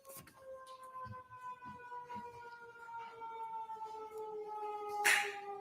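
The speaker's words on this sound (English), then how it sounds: "I was just waiting for the siren" A siren on a recording played in a courtroom during a criminal retrial sounds as a steady, moderately loud wail of layered tones that drift slowly downward, with faint background noise and a brief burst near the end.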